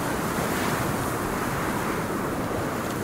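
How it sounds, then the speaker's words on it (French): Strong wind and crashing waves on a wintry coast in the survival game Sons of the Forest form a loud, continuous roar of surf and gusts with no speech over it. "Va falloir que le vent se calme hein, quand même."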